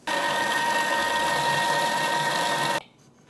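A Thermomix whirs at a steady, high-pitched hum while mixing cannelé batter, running evenly for nearly three seconds before cutting off abruptly into quiet.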